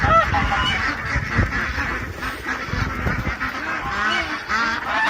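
Several geese honk repeatedly and loudly, overlapping calls with nasal, brassy tones filling the whole stretch, close by.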